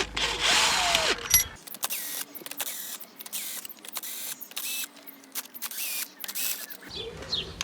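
On a 2.0 TSI Mk6 Golf GTI engine, an impact gun works loose the cylinder head bolts in a series of close, loud, short rattling bursts with brief gaps between them.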